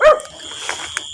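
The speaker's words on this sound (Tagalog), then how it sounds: "Yung aso." A single sharp dog bark, loud and close, followed by faint quiet background at a rural fishing spot.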